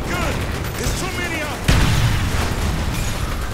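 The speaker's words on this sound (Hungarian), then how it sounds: "Ez mindig így robban föl." A sudden, loud explosion booms midway through gameplay in the shooter Call of Duty Black Ops, cutting through ongoing gunfire and game noise, with a player's voice heard before the blast.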